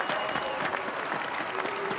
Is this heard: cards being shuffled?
no